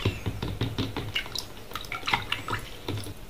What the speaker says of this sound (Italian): circa un bicchiere della carta frullata e la vado a sciogliere nell'acqua